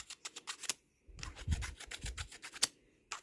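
Peg soap rubbed onto wooden cello tuning pegs, giving a series of close, soft raspy rubbing strokes in short bursts, with a steadier stretch of friction near the end.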